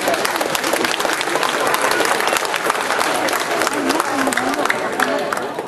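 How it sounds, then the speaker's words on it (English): An audience claps steadily for Boy Lisaso at a Philippine Independence Celebration charity event in Southern California, a dense sustained round of applause with faint crowd murmur and a voice underneath, easing slightly at the end. "Let's give Boy Lisaso a big round of applause."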